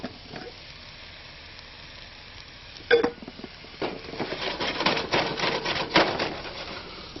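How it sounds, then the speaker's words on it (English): Food fries in oil and butter in a pan with pineapple for an Asian-style dish, a quiet hiss that swells into louder crackling sizzle, punctuated by a sharp utensil knock and stirring scrapes. "We're just going to fry that up"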